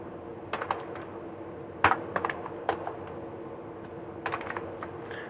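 Fingers type on a computer keyboard in short irregular bursts of clicky keystrokes, close and fairly crisp, with a louder tap near the middle and pauses between clusters; no talking.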